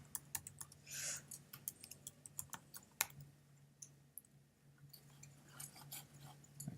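Quiet typing on a computer keyboard, a steady run of light key clicks with irregular rhythm and a few sharper taps, close and alone over a low hum.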